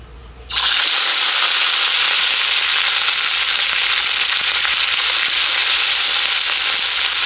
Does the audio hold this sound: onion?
yes